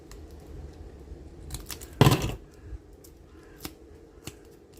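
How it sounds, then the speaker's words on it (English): A quick close snip of scissors cutting through tape, a brief crisp crunch, followed by a few faint handling clicks. "Let me just get rid of that, otherwise my scissors don't cut"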